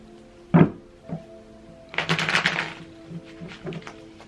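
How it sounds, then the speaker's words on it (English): Tarot cards are shuffled by hand, with a few soft thumps and taps of the deck followed by one brisk papery riffle burst and some lighter card flicks. "Let's get 5 shuffles for Gemini, please."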